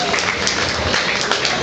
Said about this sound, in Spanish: Un aplauso por favor por nuestro Óscar.